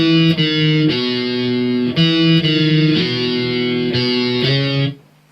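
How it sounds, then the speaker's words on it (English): An electric guitar played through distortion chugs out the pre-chorus of a song, with loud, sustained chords that change every second or so before cutting off abruptly at the end. "So I'm going to play it distorted,"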